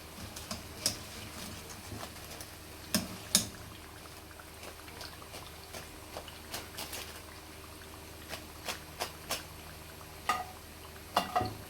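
Vegetable samosas deep-fry in hot oil with a quiet, steady bubbling hiss broken by scattered crisp pops and crackles throughout.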